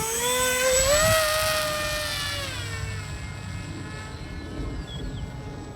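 A Kopaqi 950mm FPV delta wing RC plane on its maiden flight whines loudly overhead, the propeller pitch rising and then fading steadily as it flies away into the distance.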